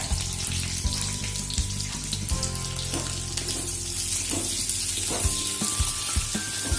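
Cubed onions frying in a pan with oil and green chillies for chilli paneer, steady sizzling and crackling throughout with occasional clinks and scraping, close and fairly loud.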